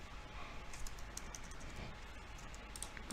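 Faint, quick typing on a computer keyboard, light clicks in an uneven stream over a steady background hiss, with no voice.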